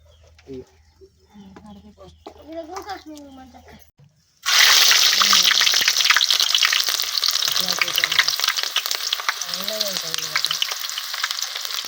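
Onions hit hot oil in a pan and a loud, steady sizzle erupts partway through, continuing to the end while someone talks before and over it.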